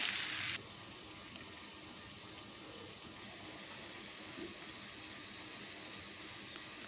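Potatoes fry in oil in a pan with a steady, faint sizzling hiss, after a brief louder burst at the start, continuing evenly with no talk.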